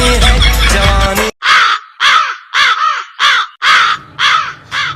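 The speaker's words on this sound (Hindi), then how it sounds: "ये कौवा जितना गला क्यों फाड़ रहा है?" A crow caws loudly in a string of six harsh, evenly spaced calls, close and prominent, following a brief burst of music.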